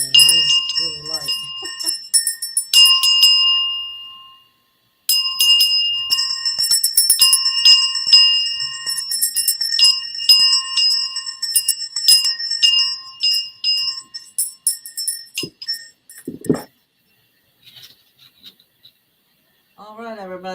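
Two light hand bells ring in repeated bright, close bursts with a short pause between, then the ringing thins to scattered faint clinks while a voice speaks toward the end.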